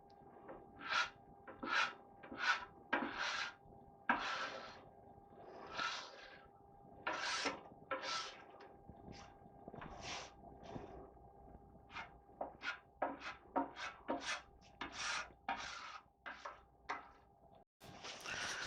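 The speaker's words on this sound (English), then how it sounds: "let's get all this grease pushed back into the trap." A metal scraper pushes grease across a Blackstone E-Series electric griddle toward its grease trap, a series of short rasping scrapes in an uneven rhythm, close up and with no talking.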